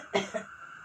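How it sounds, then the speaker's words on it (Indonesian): A forceful cough after a deep held breath during choking emergency first-aid practice: one sharp, close burst followed by a smaller second expulsion, then quiet. "Sekarang ibu silakan tarik napas dalam, lalu tahan, lalu batukan dengan kuat."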